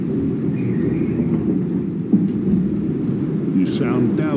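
A storm in Red Dead Redemption 2 brings steady heavy rain hissing throughout, with low rumbling thunder underneath and voices talking over it.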